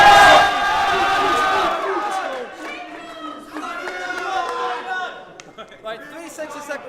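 Crowd at a Get Slated rap battle cheering and shouting for a battler: a loud burst of whoops and yells that settles into sustained hollering and chatter, with scattered individual shouts rising above the mass.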